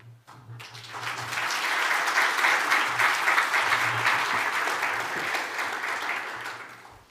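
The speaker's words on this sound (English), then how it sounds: "Thanks for the applause" Audience applause at a social enterprise conference as a presentation changes hands: dense, sustained clapping from a sizeable crowd that swells quickly, holds strongly for several seconds, then tapers off.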